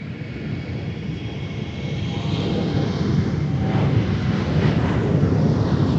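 An airplane takes off on the runway at MSP airport in a crosswind. A broad, distant roar swells steadily as the aircraft accelerates.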